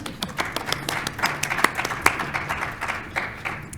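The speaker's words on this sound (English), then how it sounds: "round of applause for them" A conference audience at a summit on Angelman syndrome applauds steadily, a dense patter of many hands sustained throughout and heard from within the room, with no voices over it.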